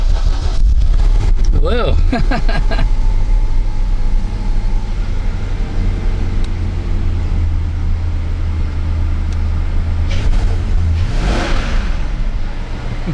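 A V8 engine swapped into a Proton Wira cranks and catches after long storage, then settles into a loud, steady, deep rumble with a rising rev near the end; a voice exclaims briefly over it.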